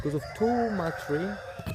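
A rooster crows in a village among the chickens of a small backyard poultry project, with several loud, close calls rising and falling and clucking mixed in.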